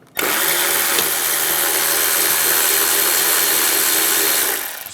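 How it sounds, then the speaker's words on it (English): A power driver with an 8mm socket backs out a headlight screw on a 2006–2009 Mercedes-Benz E350, one loud, steady whirring run of about four and a half seconds, close up and alone. "Take this screw out right here. Same 8mm socket."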